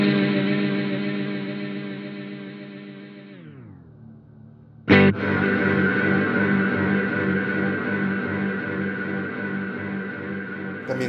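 Electric guitar through an EarthQuaker Devices Transmisser reverb pedal: a sustained, shimmering chord swells and drifts downward into a fading wash, then a fresh strummed chord rings out loud with a long diffuse reverb tail.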